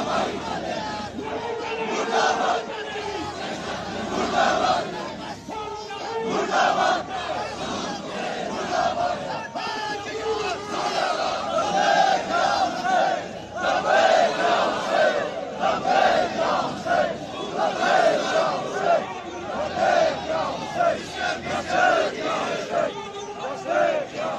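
A large funeral crowd loudly chanting slogans against the prime minister, many voices shouting together in a dense, continuous roar with rhythmic surges of call and response, heard close and sustained throughout.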